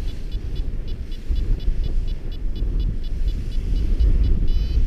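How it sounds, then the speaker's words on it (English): Strong wind howls across a windy paragliding launch site. It makes a loud, continuous low roar that buffets the microphone and swells slightly toward the end, with no voices. "the wind's howling"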